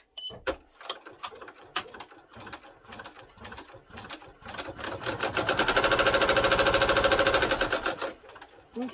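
A sewing machine stitches a composition notebook cover. Scattered clicks and short bursts lead into a steady, loud whirring run of rapid stitching of about three seconds before it stops with a final click.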